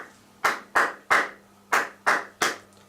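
Six crisp, sharp hand claps (palmas) keep time for a song, evenly spaced in two groups of three, loud and close with no voices.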